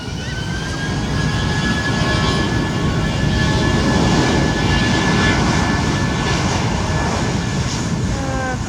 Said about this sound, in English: the 320 looks like it's gonna go for a little bit of a powerful takeoff